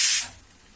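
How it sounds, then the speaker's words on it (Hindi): A pressure cooker on a low gas flame, cooking bottle gourd curry with yogurt, lets off a short, loud burst of hissing steam from its whistle that quickly dies away to a faint hiss. "देखो 1 सीटी मार दी है"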